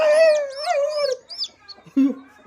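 A hen being moved to a sand bed gives a run of loud, close clucks and squawks in quick succession, followed by a few softer calls and a brief low thump near the end.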